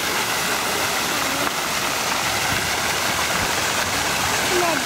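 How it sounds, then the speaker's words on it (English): Water from the Boston Common fountain waterfall splashes in a constant, close, broadband rush that holds steady throughout. "this here is the waterfall of Boston Commons"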